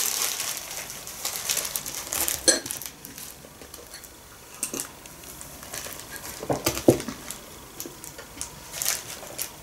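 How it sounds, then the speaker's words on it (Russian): A marshmallow held through a plastic bag is chewed close up, with quiet, intermittent crinkling of the plastic and soft squishy bites in irregular bursts. "Я хомячу вторую зефирку."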